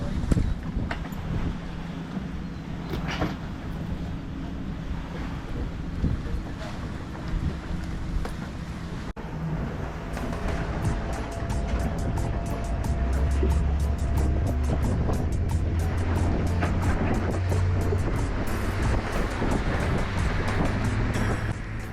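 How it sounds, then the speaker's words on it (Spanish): Motorboat on the Río Dulce in Guatemala, with a steady engine drone and wind rushing over the microphone. The hull and water noise build louder after the first few seconds, and there is no talk. "abordamos la lancha que nos llevaría a nuestro alojamiento"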